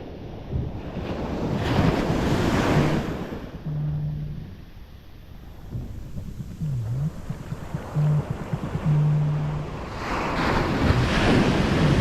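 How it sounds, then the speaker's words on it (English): Ocean surf rolling and breaking on a beach, steady roar of waves with gusts of wind buffeting the microphone. "watch this wave, it'll break really, really clean"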